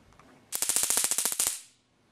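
A baton stun gun crackles in a rapid burst of sharp electric snaps lasting about a second, loud and close, then cuts out into near silence.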